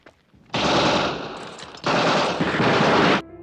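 War-story gunfire effect: two long, loud bursts of rapid machine-gun fire separated by a brief pause, each cutting off abruptly, with no talking over them.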